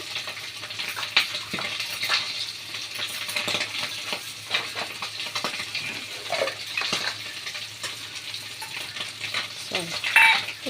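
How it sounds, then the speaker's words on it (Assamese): Pieces of bhokua (catla) fish hit a hot pan of oil with tomato for a fish curry, giving a steady busy sizzle and bubbling throughout, with a few light clinks near the end. "এতিয়া মই মাছ দি দিওঁ।"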